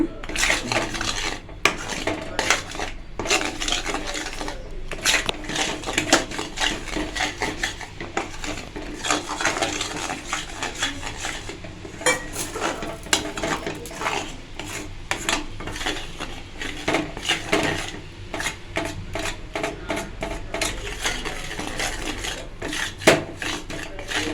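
Thick Mysore pak mixture being stirred nonstop in a pan, a spoon scraping and rasping against the metal in dense, continuous strokes with clinks of cookware, close and fairly loud, no talk.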